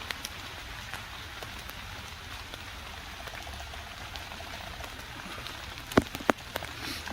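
Steady rain patters softly on leaves, a continuous quiet hiss, with a couple of louder drips or taps near the end.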